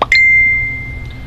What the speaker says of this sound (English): That was my phone beeping telling me something.